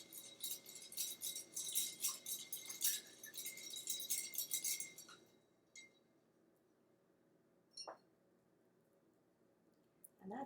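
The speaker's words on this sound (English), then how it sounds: "We're just giving it a nice little stir." A gin and tea cocktail is stirred in a glass with rapid, bright clinks of a spoon against the glass for several seconds, then quiet except for a couple of faint taps.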